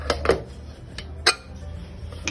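A metal pot of dhokla batter set down inside a pressure cooker, a few sharp close clanks and clinks of metal on metal spread over a couple of seconds, no voices.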